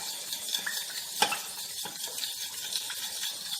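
A gelatin sheet is stirred into melted chocolate and milk in a pan, a close, continuous soft scraping and swishing with light clicks of a utensil against the pot.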